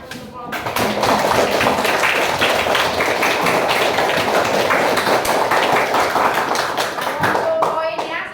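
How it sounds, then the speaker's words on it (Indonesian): A classroom applauding group 1, with dense, continuous hand clapping from many students that rises quickly and holds steady for several seconds, with voices mixed in. "Coba clap your hand, tepuk tangan untuk kelompok"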